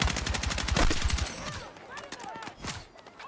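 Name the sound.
AK rifle gunfire in a video game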